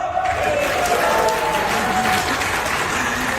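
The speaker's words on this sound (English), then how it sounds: "I want you to make some noise by cheering, clapping, whatever works." A live keynote audience in the UAE cheers and claps loudly as a competing team, a dense, sustained wall of applause and crowd noise filling the whole moment.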